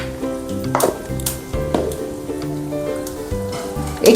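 Fennel and fenugreek seeds with asafoetida frying in oil in a pan for cucumber shukto, a soft steady sizzle broken by several sharp clinks and scrapes of a spoon against the pan.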